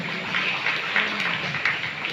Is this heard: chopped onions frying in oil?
no